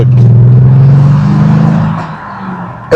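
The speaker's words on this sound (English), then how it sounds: "You see the rumble sound?" Deep exhaust rumble from a Mercedes idling close by in a repair shop, a steady low growl that eases off toward the end before a sharp noise cuts in.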